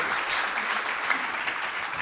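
A crowd at a Cleveland civil rights and economic empowerment event applauds a partner and board chair, a dense, sustained roomful of clapping with faint voices mixed in.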